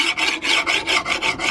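A file rasps in steady, rhythmic strokes across the steel blade of a garden hoe being sharpened flat, about seven even passes close up with no talk.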